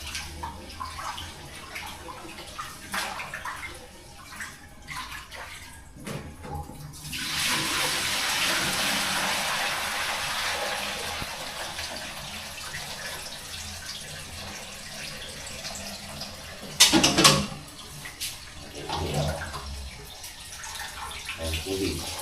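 Water runs hard from a tap in a home in the morning, a steady rushing hiss that lasts about ten seconds before cutting off, with people talking nearby and a clatter near the end.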